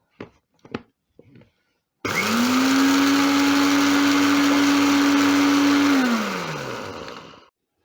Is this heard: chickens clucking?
no